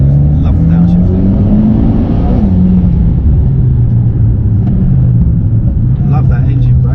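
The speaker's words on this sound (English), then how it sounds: "The downshifting is sick. Love the downshifting." Mitsubishi Evo X engine drones loudly from inside the car, its pitch rising and dropping through downshifts and engine braking, with people talking over it throughout.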